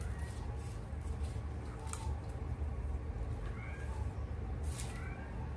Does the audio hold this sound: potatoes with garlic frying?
no